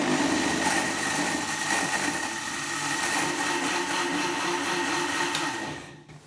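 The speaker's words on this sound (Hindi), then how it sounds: "ब्लेंडर जार में अच्छे से ब्लेंड कर लेंगे।" Blender jar whirring at steady high speed as it purees rice, carrots and water, loud and continuous throughout before cutting off at the end.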